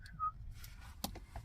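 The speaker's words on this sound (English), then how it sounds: "That was a whistle." Someone gives a short whistled note at close range, a brief clean tone followed by handling clatter and rustling in a camper van parked in a pub car park.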